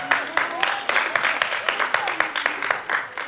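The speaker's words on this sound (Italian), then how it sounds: "Facciamogli un applauso." Audience applause for volunteers at a magic show: a scatter of uneven hand claps from a small crowd, mixed with chatter and children's voices, moderately close.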